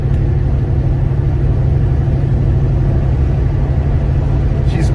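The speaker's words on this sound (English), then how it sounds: "She's going through all the gears." The engine of a 1966 Chevelle drones steadily and loudly under acceleration as it pulls through the gears, a constant low rumble with no clear breaks between shifts.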